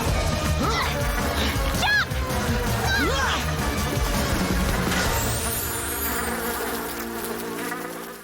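A cartoon swarm of wasps buzzes loudly and steadily throughout, with whooshing swoops and a crash-like hit near the start, the drone fading slightly toward the end.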